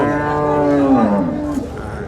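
A native bull at a cattle market in Nilphamari lows once, a loud close drawn-out moo that falls in pitch, over background crowd murmur.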